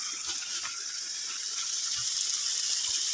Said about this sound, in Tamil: போர் வந்து மோட்ரு போட்டாச்சு, தண்ணி வந்தாச்சு.